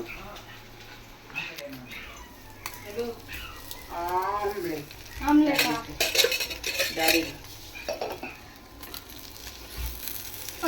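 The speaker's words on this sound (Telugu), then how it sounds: "సామాన్లన్నీ తోమేస్తున్నాను చాలా ఉండే సామాన్లు" Dishes, pots and utensils being scrubbed and washed by hand at home, with clinks and clatter of metal and plates in bursts, and someone talking over the washing.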